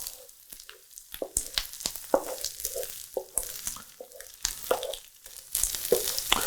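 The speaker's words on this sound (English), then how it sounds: "Okay, now you can start mixing the whole rice in with these eggs because they're going to keep cooking." Scrambled eggs and rice sizzle and fry together in a pan for sweet and savory fried rice, a steady close crackle broken by repeated scraping stir strokes, with no talking.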